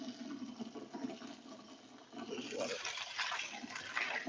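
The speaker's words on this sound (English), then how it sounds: "I'm just gonna throw that dirty water away and then wash it with the new water" Starchy water from washing noodles is poured away, a faint splashing gush that grows rougher midway, with a voice speaking quietly underneath.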